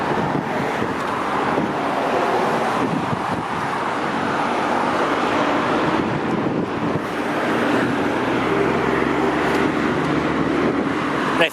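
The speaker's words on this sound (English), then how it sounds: "there's a big truck coming behind me" A big truck rumbles past on Clark Boulevard, a city street in Brampton, Ontario, with a steady, loud roar of road noise and wind buffeting the microphone throughout.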